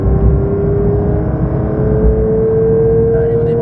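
A race car engine idles and runs on light throttle at the Dreux circuit, a loud steady drone with a rising tone near the end, close up, with a voice speaking over it.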